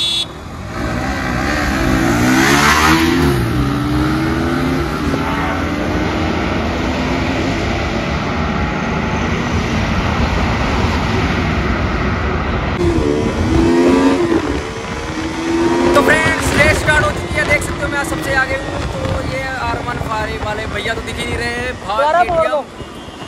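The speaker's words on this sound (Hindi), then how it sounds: "तो भाई रेस स्टार्ट होने वाली है अभी, ड्रैग रेस।" A Yamaha R15 and a KTM RC200 accelerate hard in a roadside drag race, with loud engine roar, rising revs and gear changes against heavy wind noise.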